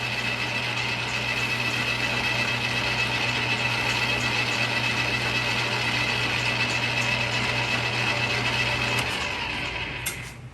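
A metal lathe, an ANMEC BL330-E, runs in reverse while a threaded part is polished with Scotch-Brite, giving a steady mechanical hum with a low motor drone that holds level before winding down near the end.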